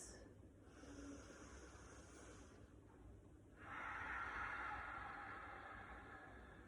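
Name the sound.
deep breathing during hamstring stretch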